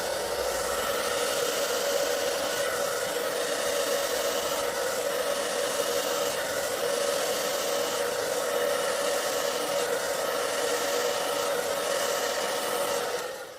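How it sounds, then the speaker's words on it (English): A Babyliss hair dryer on a cool setting blows steadily and loudly over acrylic paint with a constant whooshing hum throughout, then cuts off at the very end. "then I'm going to hit it with the hairdryer on cool and high."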